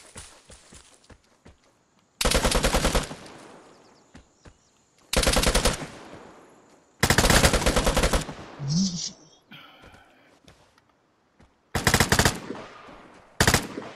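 Rapid automatic gunfire in a shooter video game comes in several loud, sharp bursts of a second or so each, separated by quieter stretches with scattered single shots and footsteps, while a player talks now and then.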